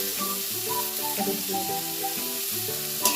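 Boiled hog plum (amra) sizzles in hot spiced oil with turmeric, a loud continuous frying hiss filling the pan, close up, with a faint click near the end while music plays underneath.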